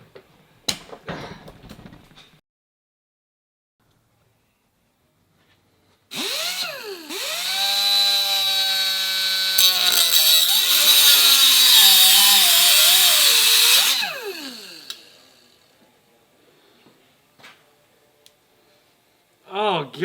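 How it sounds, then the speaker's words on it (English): Cutoff wheel slicing into a Harley-Davidson hydraulic brake control unit clamped in a vise, a loud, steady metallic grinding whine with a pitch that sags and recovers, running for about eight seconds before spinning down. "I think I have a cutoff wheel right here."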